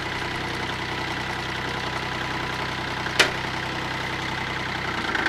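A vehicle engine drones steadily in four-wheel drive while climbing a hill, heard up close through wind, with one sharp click partway through.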